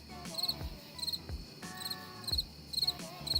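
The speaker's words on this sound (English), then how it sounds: "Crickets." Crickets chirp in quick repeated bursts over a low thumping rhythm and faint hum.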